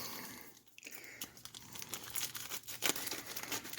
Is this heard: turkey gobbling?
no